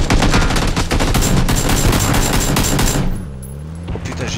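Rapid bursts of automatic gunfire from a PUBG firefight rattle loud and dense for about three seconds, then stop abruptly and leave a low rumble.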